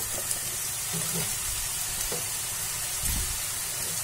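Chopped capsicum sizzling in a hot pan for veg Manchurian, a steady frying hiss with a few soft stirring scrapes, close and moderately loud, no talking.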